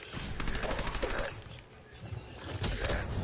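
Guns firing in Fallout 4 during a fight against heavily armed enemies: rapid automatic bursts of gunfire, a run at the start and another near the end, fairly close and loud against a noisy game background.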